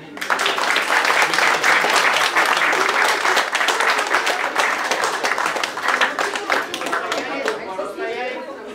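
A birthday-party audience at the Gnezdo Glukharya club claps loudly and densely for nearly nine seconds, the applause easing slightly toward the end.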